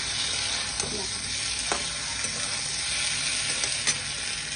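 Eggplant added to a pan of fried poppy seeds and onion gives a steady, bright sizzle, with a few soft scrapes of stirring breaking through the hiss.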